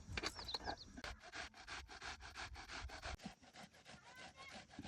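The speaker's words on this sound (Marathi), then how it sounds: "तर चला आता पहिल्याने ना कोबी किसून घेऊ." Cabbage grated by hand, a steady rasping scrape repeated in quick, even strokes, close and fairly quiet, with no talking.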